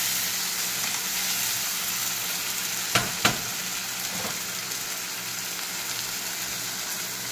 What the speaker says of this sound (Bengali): টমেটো আর কাঁচা লঙ্কা একসাথে পেস্ট করে তারপর এটাকে একটু নাড়তে হবে।